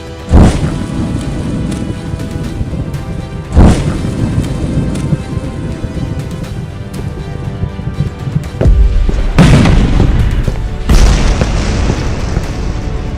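Heavy booming explosions from an animated episode hit outside in several separate blasts, each a deep thud with a rumbling tail, over a constant rushing roar much like rain.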